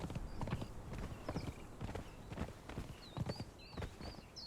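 Horse hooves clip-clop steadily in the video game Conan Exiles, a close, regular walking rhythm with faint bird-like chirps above it and no talk.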